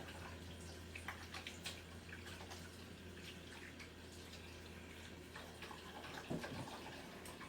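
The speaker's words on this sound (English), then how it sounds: "Let me rinse my hands off." Faint, steady stream of tap water splashing into a sink while hands are rinsed, with soft drips and a brief louder splash near the end.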